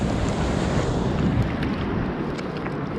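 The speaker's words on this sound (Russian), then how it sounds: "Это разыгралась волна тут у нас." Rough waves on the Barents Sea, heard from a boat as a continuous loud wash and rumble of surf mixed with wind buffeting the microphone throughout.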